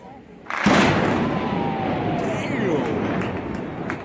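Explosive charges blast during the demolition of a 93-year-old Little Rock bridge with structural problems: a sudden loud boom at about half a second, then a long, sustained rumbling roar that stays strong to the end.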